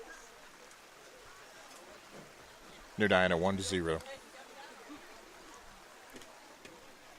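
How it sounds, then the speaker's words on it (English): Steady soaking rain falls on an outdoor baseball field during a regional quarterfinal playoff game, a continuous broadband hiss throughout, briefly interrupted by a short burst of announcer speech in the middle. "Pretty steady soaking rain here."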